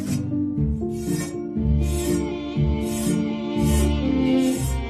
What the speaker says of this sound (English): when it's dry, he shaves it to clear away tissue